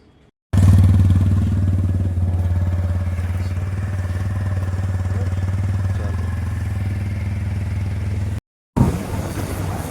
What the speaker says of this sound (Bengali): তো এবার বাইকে করে যাব, আমাদের সাথে থাকো।